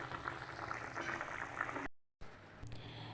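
Fish curry simmers and bubbles in a pot, a steady soft boil with a low background hum, cutting out briefly before resuming.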